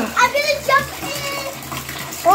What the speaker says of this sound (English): I'll turn on the water.